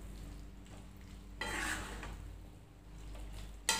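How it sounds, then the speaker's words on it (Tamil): Boiled chickpeas are stirred into masala in a pan for chana biryani. A soft scraping and rustling of the stir swells partway through and ends with a sharp clink of utensil on pan. "ஆட் பண்ணி இதையும் நம்ம இப்போ நல்லா மிக்ஸ் பண்ணி விடலாம்."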